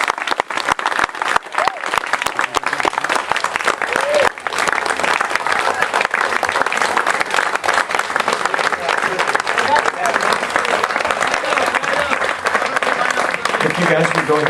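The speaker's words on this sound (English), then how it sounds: "would everyone please join me in a final round of applause for our 2017 Oak Grove 8th grade graduates" Sustained applause from a crowd at the Oak Grove School 2017 8th grade graduation ceremony, loud, dense clapping that continues evenly throughout, with some voices mixed in.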